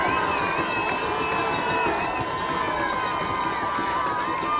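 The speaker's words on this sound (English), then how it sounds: "Crowd comes to life." Football stadium crowd at an Elmhurst vs Carthage college game, a steady dense roar of many voices with cheering and shouting that holds loud and even throughout, with a commentator talking over it.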